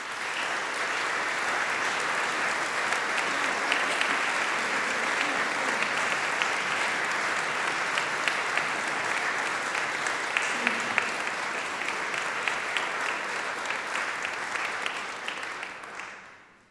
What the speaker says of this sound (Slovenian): Vsi trije si zaslužijo aplavz.